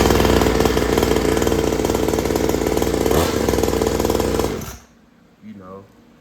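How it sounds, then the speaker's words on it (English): A two-stroke dirt bike engine runs loud and close with a fast, buzzing, ringing rattle that holds steady and then cuts off abruptly, followed by a brief faint voice in the quiet. "I can show y'all this bike run too, because update on this, I did get this running."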